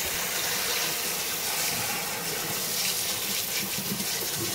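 Water from a sink sprayer rinses trombone parts under strong pressure, a steady loud hissing gush that runs without a break and with no voices.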